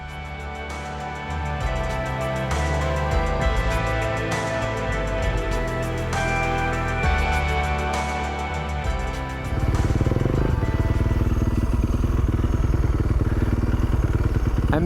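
A Yamaha Tenere 700 adventure motorcycle's engine and exhaust run with a clattering mechanical note, then swell into a louder, fuller roar as the throttle opens near the end, close and without talk.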